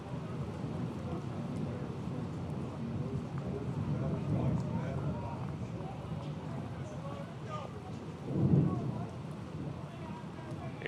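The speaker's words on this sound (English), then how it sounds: "the fact that it's raining as hard as it is here at Hyde Stadium" Heavy rain pouring at a baseball stadium during a 14U state tournament game, a steady broadband hiss with a louder gust near the end, under continuous play-by-play commentary.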